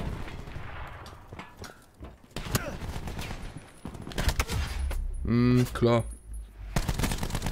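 Gunfire from Call of Duty: Black Ops 4 on PS4: sharp shots and rapid bursts crack through the mix, some close and loud, others fainter, with a voice talking over and between them.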